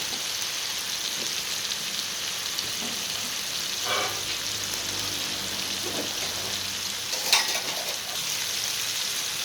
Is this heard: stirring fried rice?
yes